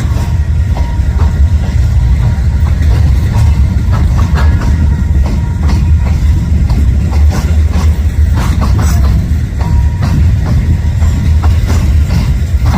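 A train led by a locomotive passes in St Paul, giving a loud, steady low rumble with rolling clatter of wagons throughout and no talking.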